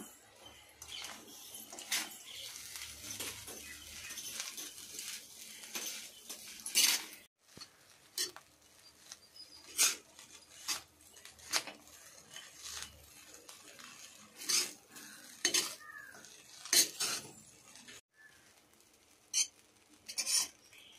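A utensil stirs chicken rice with pepper powder in a pan, giving irregular metallic clinks and scrapes that come and go at close range, with no talking.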